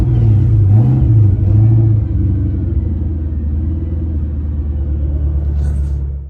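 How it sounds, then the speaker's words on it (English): A 700 hp Terminator Cobra idling after starting up, a loud deep rumbling engine with a brief rising rev early on, then a steady throaty idle close by. "whenever the car actually started up"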